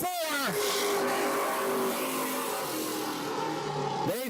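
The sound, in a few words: race cars on oval track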